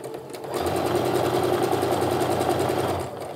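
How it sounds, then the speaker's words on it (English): A sewing machine stitches a quilt block, its needle running in a steady, fast mechanical chatter for about two and a half seconds, close and loud, with no talking over it. "I'm going to slow down as I come to that, making sure I'm sewing one needle width to the right"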